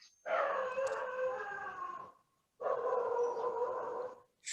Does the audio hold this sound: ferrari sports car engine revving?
no